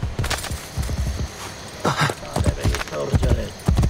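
Horse hooves in Assassin's Creed Brotherhood on PS5 clip-clop in a quick, steady gallop, loud and close throughout, with game sound and voices mixed in.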